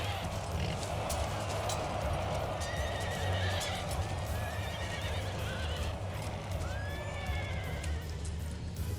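Cavalry horses charging in Empire: Total War, with repeated whinnying and neighing over a dense, steady rumble of galloping hooves, loud and continuous throughout.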